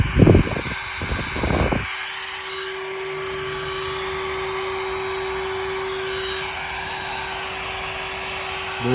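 Looftlighter X fire starter running in its air-only mode, a steady, close hair-dryer-like blowing whoosh with a faint whine that holds evenly after a few short louder bursts at the start.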